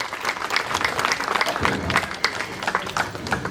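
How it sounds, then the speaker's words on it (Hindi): Applause from an audience at a cultural festival program, dense steady clapping that continues throughout without a break. "जोरदार तालियां हो जाए हमारे समर्थ सद्गुरु के लिए।"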